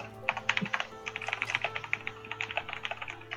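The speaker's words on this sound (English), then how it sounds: "please mute when machine gun typing" Rapid, continuous typing on a computer keyboard during an online tabletop role-playing session, a dense burst of sharp clicks close to the microphone with no talk.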